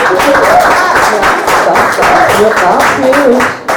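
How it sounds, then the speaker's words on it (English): Applause from an audience at a spoken-word poetry evening, a steady dense wash of clapping lasting several seconds, with voices talking over it throughout. "Applause"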